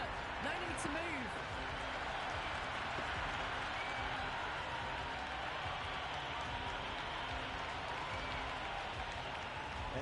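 Stadium crowd in Cricket 26 roaring steadily after a six in an under-19 ODI final at Harare, a dense, continuous wall of cheering and applause with a commentator's voice mixed in.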